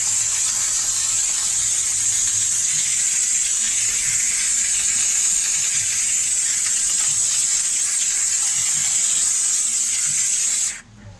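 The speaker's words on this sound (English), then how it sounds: "You gotta be careful when you use the steamer" A hot steam cleaner hisses continuously and loudly while detailing a car's interior, a steady bright spray with a faint low rumble beneath, cutting off abruptly near the end.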